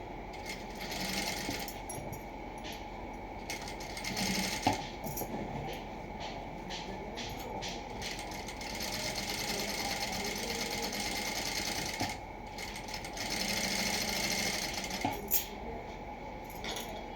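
A sewing machine running steadily as it stitches the shoulder seam of a plain blouse, a close continuous mechanical whir with short pauses and restarts and no talking over it.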